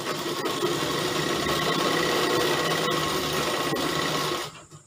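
A sewing machine runs steadily while stitching the seams of a kali gown, a loud close continuous whir that stops abruptly near the end, with no talking.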